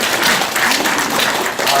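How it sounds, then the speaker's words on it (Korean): Audience applause breaks out at a Catholic marriage-preparation training session for mentor couples. The clapping is brief, close and dense, with a voice heard over it. "박수 부탁드립니다."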